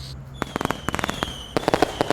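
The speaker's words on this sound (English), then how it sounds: "Oh, it's getting more fireworks." Independence Day fireworks exploding in a rapid series of loud, sharp cracks and pops, bursting in quick clusters with brief pauses and no talking.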